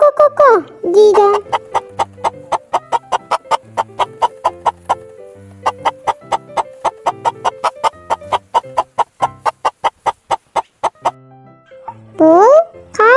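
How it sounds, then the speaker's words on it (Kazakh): A chicken clucks in a long, rapid, steady series of sharp clucks, loud and close, with a voice speaking briefly before and after. "Бұл тауық."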